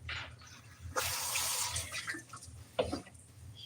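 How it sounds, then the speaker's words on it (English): Vegetables are rinsed under a running tap in a kitchen sink, a short gush of splashing water that starts abruptly, flows steadily, then ends with a few drips and small knocks. "So I'm going to rinse some of those off too."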